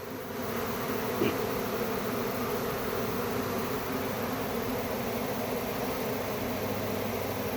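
A swarm of honey bees taking over an established hive, buzzing around the hive box in a dense, steady drone that stays loud and even throughout, with no voices.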